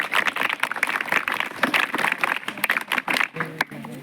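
Audience applause for a guest teacher at a college event, a dense, continuous burst of many hands clapping close by that thins out near the end as a few voices murmur.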